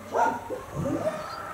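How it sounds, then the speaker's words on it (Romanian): Several dogs at a shelter bark softly and whimper nearby in short, overlapping yips and whines over a steady low hum. "Așa-i cu câinii ăștia, mereu mi-i întrerupe discursul meu aici."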